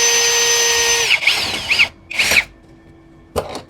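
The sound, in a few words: APR AP34+ cordless impact drill with 10 mm socket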